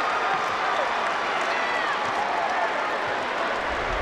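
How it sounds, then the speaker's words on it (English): Basketball fans at a North Carolina high school 2A men's state championship game between Farmville Central and Reidsville stand and applaud, a dense, steady roar of clapping and crowd noise filling the arena with no break. "the fans are allowed to stand and applaud after the first 16 minutes"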